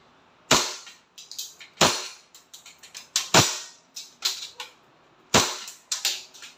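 A WE 1911 Classic semi-automatic airsoft pistol fires four sharp, loud, spaced shots, each followed by smaller clacks and rattles of the mechanism, with no talk.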